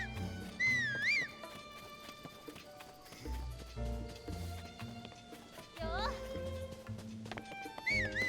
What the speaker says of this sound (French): Oh là, le cheval il est resté là-bas.